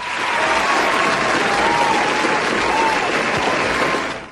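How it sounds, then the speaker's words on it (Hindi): A studio audience on a children's talk show breaks into steady, loud applause that holds evenly from start to finish, with a faint tone threaded through the clapping. "आपके लिए तालियां बनती हैं भाई"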